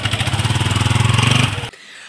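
A motorcycle engine chugs in a steady, close, pulsing rhythm while the bike is being parked, then cuts off abruptly, leaving near silence.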